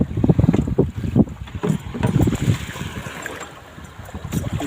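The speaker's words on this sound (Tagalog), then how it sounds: "Bugbog na tayo ng hangin sa bagat ngayon." Strong wind batters a boat at sea, roaring gusts buffeting the microphone in heavy low rumbles that surge and ease, loud and close, with water and hull noise underneath.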